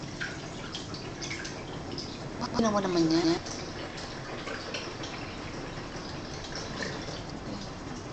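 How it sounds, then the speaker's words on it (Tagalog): Water splashes and pours as a pet is rinsed during a bath, a brief louder gush over a quieter background of trickling, with people talking nearby. "Another rinse."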